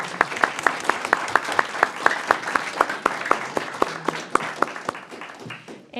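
Audience at a school board meeting applauding students, a few dozen hands clapping in a steady rhythm that thins out toward the end, with faint voices underneath.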